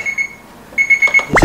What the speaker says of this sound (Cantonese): 試鬧鐘